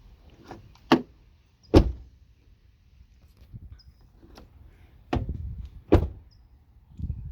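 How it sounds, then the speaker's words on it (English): The driver's door of a 2014 Ford Focus with a faulty latch is swung shut repeatedly, giving a series of sharp, close thunks and clacks spread over several seconds without catching. "The door didn't even close all the way."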